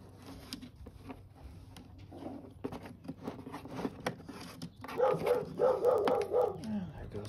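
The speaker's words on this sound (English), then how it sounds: "There goes the dog." Dog barking a short rapid run of several barks at moderate distance, following scattered clicks and shuffling noises.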